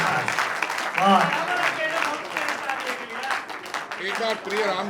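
An audience at a Hindi poetry gathering claps steadily while someone talks loudly over the applause, his voice prominent in the foreground against the continuous clapping.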